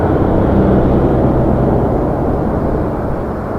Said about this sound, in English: 737 MAX 8 headed to Mexico City, doing a nice 22-knot taxi down Alpha